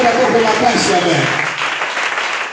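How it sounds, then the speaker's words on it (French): A church congregation claps and cheers in praise, giving dense, loud applause that fills the room and slowly fades, with voices mixed in. "Acclame le Seigneur très très fort"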